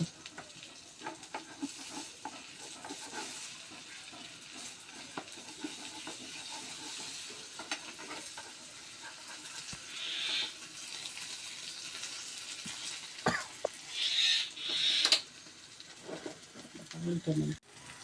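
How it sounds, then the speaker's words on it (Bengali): Potato and spiced egg omelette frying in a pan over a low flame, a continuous hissing sizzle with occasional louder bursts as it is cut and turned, while someone talks over it. "এখন আমি আর এক পিঠ ভেজে নিব"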